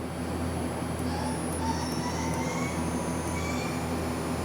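An Okuma LB-3000EX-II-MYW 800 CNC turning center runs its main spindle at 2,000 RPM, a steady, loud whine with a constant hum and faint rising tones over continuous machine noise.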